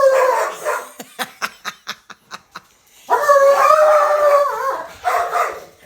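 Two dogs fighting while their owner cooks a meat-focused meal at home: a rapid run of sharp, evenly spaced barks or snaps, then a sustained loud bout of snarling and growling up close, with a person talking briefly between.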